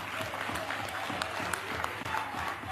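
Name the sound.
applause for Robert Sobukwe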